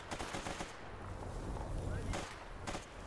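Quick bursts of automatic gunfire from the S.T.A.L.K.E.R. video game crackle faintly and continuously, with sharper volleys near the end, all low in the mix.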